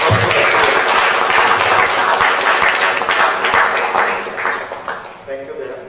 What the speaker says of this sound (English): I think let's give a big round of applause.